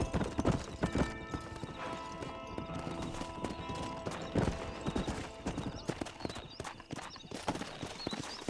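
A horse in the Western video game Red Dead Redemption trots with a steady, close clip-clop of hooves. A short whinny and other game sounds mix in over a background hum.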